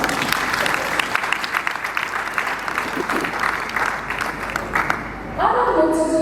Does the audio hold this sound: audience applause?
yes